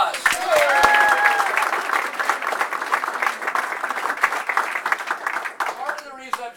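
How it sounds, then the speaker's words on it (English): A full house at a political campaign kickoff event breaks into loud, steady applause, thick clapping throughout with faint crowd murmur and a brief whistle. "Give yourselves a round of applause"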